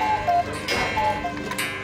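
A cuckoo clock ticks with a steady, close tick-tock rhythm for a couple of seconds, alone and with no voices over it.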